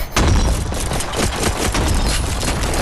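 Pistol gunfire in the VR game Animal Company: a rapid burst of close, sharp shots running over a continuous roar of game noise.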